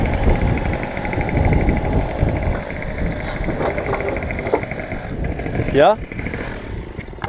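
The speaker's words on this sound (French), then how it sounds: "Elle fait un bruit, laisse tomber. On dirait que l'échappement il est libre." A moped engine with a loud, free-flowing exhaust runs steadily close by, its buzzing drone continuing under conversation in French.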